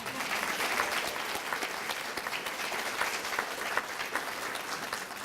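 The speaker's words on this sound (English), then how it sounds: "That deserves another round of applause." Audience applause at a community announcement about free eyeglasses for students in Richmond, Virginia, a steady, dense clapping crowd filling the room throughout, loud and continuous with no talk over it.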